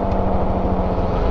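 Loud, steady road drone from a worn Kenda Trackmaster rear tire on a Honda CRF250L riding along, a continuous low rumbling hum with no letup.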